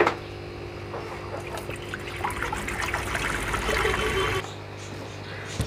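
Seawater from a 10-litre can is poured into a clownfish aquarium, a steady splashing trickle that builds for several seconds and then stops abruptly, with faint room noise around it.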